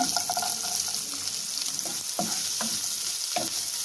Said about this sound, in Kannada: ಸ್ವಲ್ಪ ಫ್ರೈ ಮಾಡ್ಕೋಬೇಕು ಇದನ್ನು